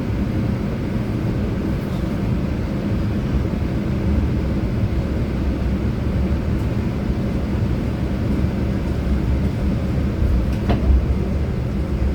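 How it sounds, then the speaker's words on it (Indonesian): KA Lodaya passenger train arriving at a station on the Solo Balapan to Bandung route, a steady low rumble of rolling wheels and engine filling the scene throughout, with faint clanks near the end. "Datang di kereta api Lodaya yang akan mengantarkan kita ke tujuan akhir stasiun Bandung."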